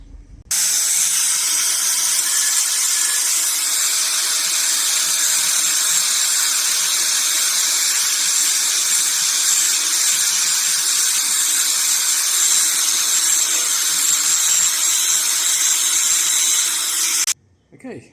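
An angle grinder cuts through rivet nuts that spin freely in their holes, a loud, high, steady whine and hiss lasting about seventeen seconds, with brief sounds before and after.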